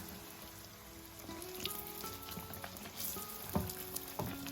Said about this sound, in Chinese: 炸油条我们一定要用高油温给它炸。